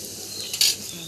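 Garlic cloves frying in a pan and being stirred with a utensil, a soft scrape and sizzle rising briefly in the middle of a short, quiet moment, no talking.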